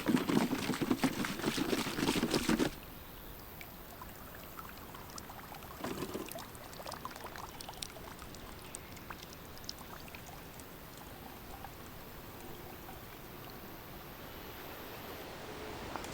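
Water is poured through a charcoal filter, a loud rushing splash for a couple of seconds that then drops to a faint, steady trickle and drip.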